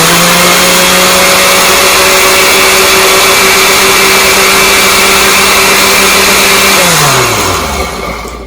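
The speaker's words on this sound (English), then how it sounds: "you put it in the blender" A blender purees tomatoes and peppers for salsa in a loud, steady, close motor whine with a constant pitch, then spins down with a falling tone as it shuts off.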